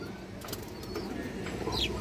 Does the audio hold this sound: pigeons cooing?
yes